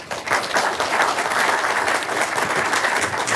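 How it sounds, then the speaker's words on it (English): Audience applause at the close of a panel discussion on unidentified anomalous phenomena, a steady dense wash of clapping filling the hall, loud and sustained throughout with no talk. "One more round of applause for them."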